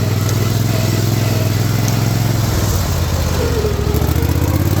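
A Cub Cadet XT1 riding mower fitted with a swapped John Deere five-speed transaxle drives along in third gear, its engine running loud, close and steady with a rough, throaty drone throughout.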